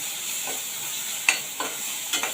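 Green chilli paste being mixed into a pan on low heat, a soft background sizzle broken by a few sharp spoon scrapes and knocks against the pan, close up with no talk.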